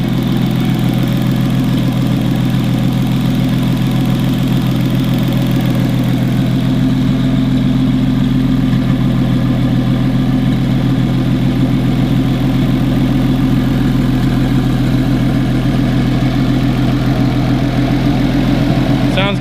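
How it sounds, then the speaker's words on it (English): A Ford Hurricane engine idles with a rebuilt 6R80 transmission, a loud, steady low rumble running unbroken throughout. "We do it while the engine is running and while it's hot"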